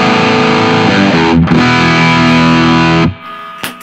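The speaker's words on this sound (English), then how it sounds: "the highest gain pedal, the most modern sounding pedal on here, is the Vertex Dynamic Distortion" An electric guitar plays through a Vertex Dynamic Distortion pedal, a high-gain, modern, mid-scooped tone, as loud sustained distorted chords ring out and then cut off abruptly near the end, followed by a brief quiet tail.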